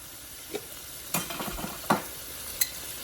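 A base sautéing in a pan gives a soft, steady sizzle, broken by several distinct scrapes and knocks of a stirring utensil, close and with no voices.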